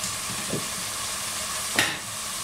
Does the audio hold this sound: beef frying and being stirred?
yes